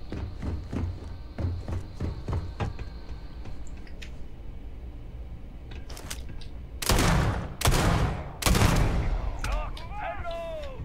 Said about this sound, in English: Taste the wrath of a mag sniper.